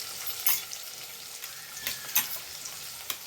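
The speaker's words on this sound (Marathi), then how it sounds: "जे अद्रक लसूण मी ठेचून घेतलं आहे ते टाकलं आहे तेलात" Crushed ginger and garlic frying in oil for a leafy cowpea gravy, a soft, fairly faint hiss with a few brief sputtering bursts and no talk.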